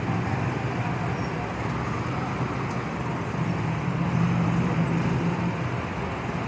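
Congested road traffic at Matina Crossing in Davao City, where a broken-down truck holds up the road, makes a steady engine rumble and road hiss with a low idling drone rising partway through; a voice speaks faintly.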